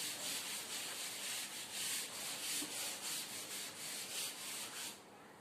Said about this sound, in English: first of all I rub the blackboard